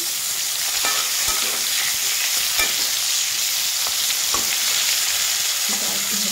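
Steady, dense sizzling of bitter gourd frying in hot oil, with a few faint clicks of stirring, no voices.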